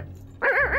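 A cartoon dog gives a short, close, high whimpering yelp with a wavering pitch after a brief quiet lead-in, loud and alone without talk.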